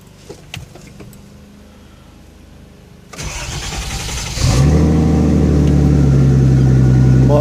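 A turbocharged L28ET engine in a 1970 Datsun 240Z cranks over with a starter whir for about a second, fires up on a warm start, and settles into a loud, steady close-up idle with no talk.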